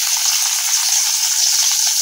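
Onions fry in hot oil in a pan, making a loud, steady, bright sizzle that continues evenly with no talk.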